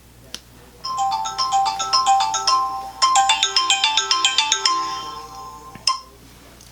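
A phone ringtone sounds loud and close, playing two bursts of a rapid melodic chiming pattern separated by a short pause, with a couple of clicks around it.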